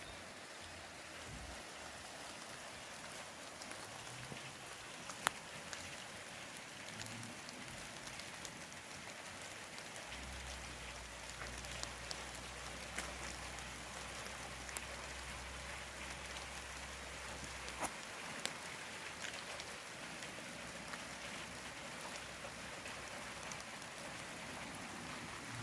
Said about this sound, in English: on this rainy day